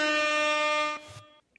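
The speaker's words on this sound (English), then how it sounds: "You get air horns for that wonderful insight" A loud air horn sound effect blares in one sustained blast of about a second, then cuts off abruptly, leaving brief faint noise.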